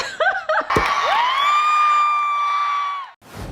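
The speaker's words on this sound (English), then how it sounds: "this is the scream from one of my concert videos" Recorded scream of fans at a TWICE concert: a loud, sustained high-pitched shriek that holds steady for about two seconds before cutting off, preceded by brief whoops and crowd noise.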